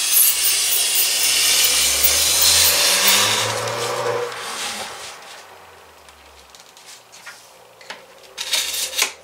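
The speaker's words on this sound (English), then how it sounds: "take a sharp knife and just score it gently first of all, making sure you get the right line." A sharp knife scores PIR insulation board, a rough scraping drag for about four seconds, followed by quieter handling noises and a few small knocks.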